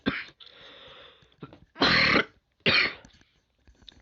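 A person coughs several times, with two loud, harsh bursts in the middle and softer throat sounds before and after, close to the listener with no talking.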